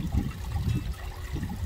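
Water trickling steadily in a koi pond, a soft continuous low burble with gentle surges, near and fairly quiet, with no voices.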